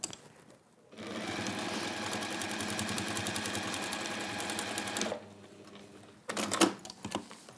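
A home sewing machine stitches across fabric in one steady, rapid, buzzing run of about four seconds, then stops with a few quiet clicks and a brief rattle of handling, close and clear.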